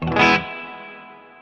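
An electric guitar plays through a 2-Rock Bloomfield drive pedal with reverb: a single overdriven chord is struck and rings out, then fades over a long decaying tail, alone.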